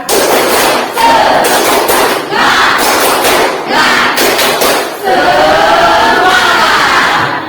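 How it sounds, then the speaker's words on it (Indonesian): Schoolchildren in class perform a rhythmic tepuk semangat clapping chant, loud patterned claps and thumps alternating with shouted chanted phrases from the group in quick bursts. "Silakan dipimpin Mas Alto. Tepuk semangat."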